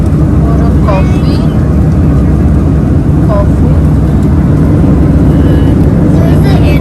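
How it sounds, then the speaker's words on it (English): A loud, steady engine roar, like an airplane close beside a car, fills the whole stretch as a dense rumble, with brief voices and small higher sounds breaking through. "There's an airplane right beside our apple juice"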